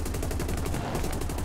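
Tank gunfire in the video game War Thunder, a rapid rhythmic burst of automatic shots, loud and close, repeating evenly over a constant engine-like rumble.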